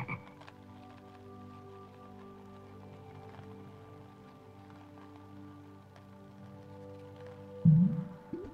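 An old frog in the video game Lilly Looking Through croaks in a low, steady drone, with a short louder croak near the end.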